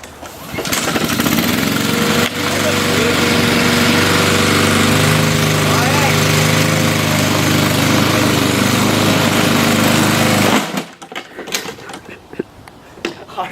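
A Honda lawn mower running over a pair of Yeezy Boost sneakers: a loud, steady, close engine roar for about ten seconds, then it cuts out abruptly, leaving scattered lighter clatter.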